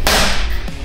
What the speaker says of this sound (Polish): trudno, niszcz mój telefon, niszcz go